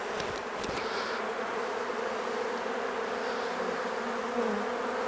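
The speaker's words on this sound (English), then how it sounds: "I'm just going to shake these bees off." A steady, dense buzzing of many honey bees close by at an open poly hive, continuous throughout with no voices.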